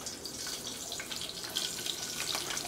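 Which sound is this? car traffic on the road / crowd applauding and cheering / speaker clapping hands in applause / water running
water running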